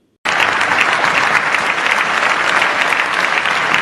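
Loud, dense applause from the plenary of the Parliamentary Assembly of the Francophonie at the close of its 50th session, bursting in abruptly after a brief silence and holding steady as a sustained ovation.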